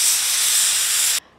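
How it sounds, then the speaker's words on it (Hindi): A pressure cooker on the stove, cooking dal, lets off a loud, steady steam hiss that vents for just over a second and then cuts off abruptly. "2-3 सीटी अभी हम इसमें और लगा देते हैं प्रेशर कुकर में"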